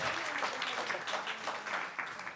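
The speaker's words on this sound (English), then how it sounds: "Please give them a round of applause for," An audience at an Art Basel panel applauding, a steady, fairly quiet patter of clapping filling the whole stretch without a clear break.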